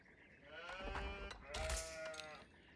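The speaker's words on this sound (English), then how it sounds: "So let's kill the sheep." Sheep bleat in the Age of Empires IV strategy game, several wavering, nasal calls in quick succession, fairly close, with low thumps under them and no talking.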